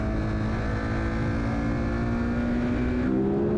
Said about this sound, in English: Let's go for a ride on my 2016 Ducati Monster